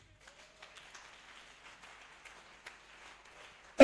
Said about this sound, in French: Lève-toi et acclame le Seigneur Jésus.